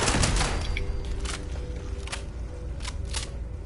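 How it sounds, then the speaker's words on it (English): Gunfire in Fallout 76: a burst of rapid shots at the start, then several separate sharp cracks spaced unevenly over a dull rumbling background, moderately loud, no talk. "I just shot him a bunch."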